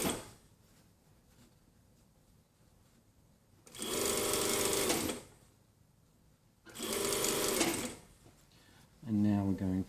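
A sewing machine stitches the back seam of a jacket from hem to waist notch in two loud, steady bursts of about two seconds each, with quiet gaps between them and a louder rattling start at the very end.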